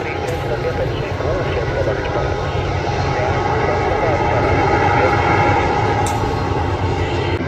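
A Latam airliner passes at Guarulhos airport, its jet engines a loud, steady roar filling the whole stretch while people talk nearby.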